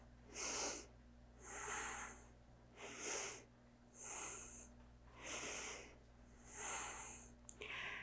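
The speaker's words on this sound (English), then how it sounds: "Inhale, exhale." Steady yoga breathing during a Kundalini core kriya, with six slow, even breaths drawn in and pushed out through the nose, close and clearly audible against a low constant hum.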